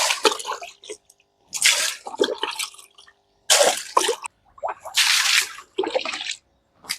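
Potassium permanganate solution splashes into a fish nursery pond in repeated pours, each a close burst of splashing and dripping water separated by short quiet gaps.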